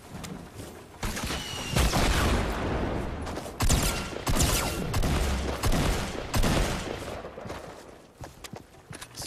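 Rapid, dense bursts of gunfire from the video game Fortnite, loud and continuous with overlapping shots and booms, then thinning into a few scattered pops near the end.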